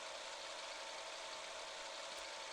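Heavy truck engine in the mobile driving game Truck Simulator Ultimate, a steady mid-pitched drone running without a break under a broad, hissy wash of noise, with no talk over it.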